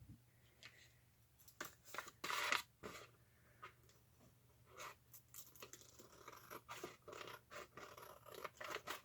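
Scissors snip close and quiet, trimming excess paper from a gatefold junk journal page in several separate crisp cuts with soft rustles and handling sounds between them.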